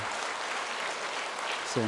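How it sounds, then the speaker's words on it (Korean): A church congregation claps during a Sunday sermon, a steady wash of applause filling the sanctuary, with a voice starting to speak at the very end. "여러분들 이제 박수 치셨으니까"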